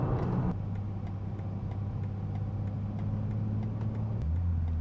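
A BMW M2 G87 with a 460-horsepower engine, driven through corners on a track, gives a steady mid-pitched engine drone heard from inside, and the note drops near the end. There is no talk.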